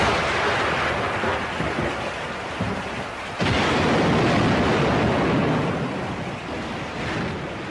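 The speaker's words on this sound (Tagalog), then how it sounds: "may bagyo ba?" Heavy rain pours in a loud, continuous wash as a thunderstorm sweeps through. A sudden crack and swell of thunder midway makes the downpour seem even louder.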